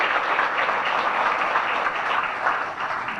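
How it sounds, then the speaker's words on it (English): Audience applause fills a chamber of commerce dinner in Grove City, a steady wash of many hands clapping at once, dense and sustained throughout with no voices over it. "So if you could please give them a round of applause as our appreciation."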